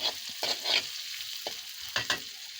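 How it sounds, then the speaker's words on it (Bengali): Onion and green chili fry together in oil in a wok, soft sizzling broken by several short spatula stirs and scrapes, close and quiet with no voices. "কড়াইতে তেল দিয়ে দিছি, পেঁয়াজ মরিচ দিয়ে দিছি একসাথে"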